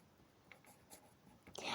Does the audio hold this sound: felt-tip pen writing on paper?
yes